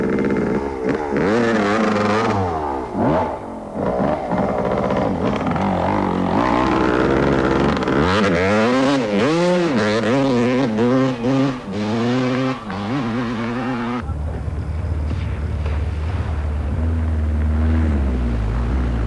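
A Yamaha rally motorcycle ridden by Hilton Beattie in the Venda Sun 500 races for the finish, its engine revving hard and loud with rising and falling pitch sweeps as it accelerates and shifts, then settling into a steadier, rougher drone near the end.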